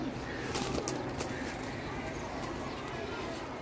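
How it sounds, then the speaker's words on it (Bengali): A restless pet pigeon in a home collection, giving soft coos and brief flutters against a steady close-up background hiss. "দেখতেছেন কত ছটফট একটা কবুতর।"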